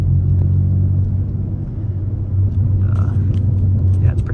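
A BMW M4 Competition drives a canyon road, its engine giving a steady low rumble from inside the car with a slight rise near the end, and a voice is heard briefly over it.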